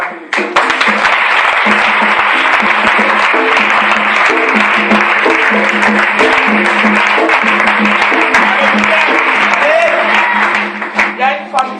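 A church congregation applauds continuously and loudly during a service, with steady clapping and crowd cheering that holds for several seconds before thinning out at the end.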